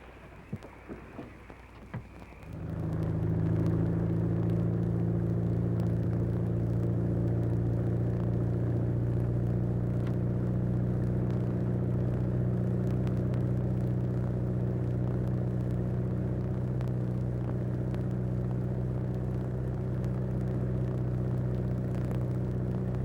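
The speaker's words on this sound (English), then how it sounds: "start the motor as soon as we get in the channel" Boat motor starts up and settles into a steady, loud droning hum with a low rumble, running alone and unchanged for a long stretch.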